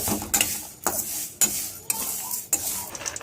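Sago and vermicelli frying in a pan with a utensil stirring them: a run of sharp scraping, clattering strokes against the metal that repeat at irregular intervals over a constant, quiet sizzle, with no one talking.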